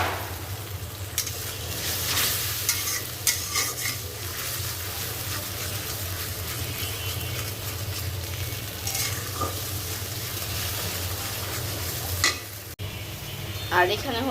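A paste of blended green and dried chilies stir-fries in a pan for homemade pasta, giving a steady close sizzle with scraping stirs and small clinks throughout, and no voices.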